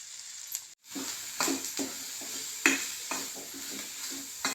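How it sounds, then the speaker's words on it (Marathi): Coarsely ground dal frying in a tempering of mustard, cumin, curry leaves, asafoetida and turmeric, a steady sizzle broken by repeated scraping stirs of the spatula against the pan, close and without talk. "ती व्यवस्थित परतवून घ्यायची. डाळ खाली लागता कामा नये."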